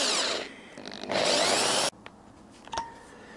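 A power drill bores through metal on a Yamaha XJ900S motorcycle project, whining loudly and steadily for about two seconds before cutting off, followed by a brief shorter burst near the end.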